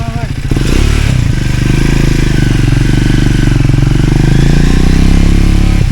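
A Triumph Speed 400 motorcycle fitted with a racing air filter starts up and revs loudly up close, holding a strong pulsing engine roar that builds toward the end, with a voice speaking over it.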